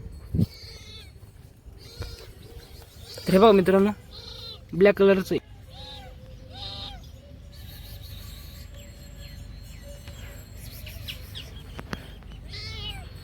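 A small black kitten gives two loud, close meows a second apart, with someone talking before, between and after the cries and low background noise throughout.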